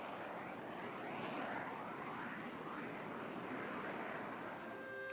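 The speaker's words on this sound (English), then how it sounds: "They must maintain their proficiency in high-performance military aircraft." A high-performance military aircraft roars past in steady, loud broadband engine noise that holds throughout, with a faint tonal whine near the end and no voices.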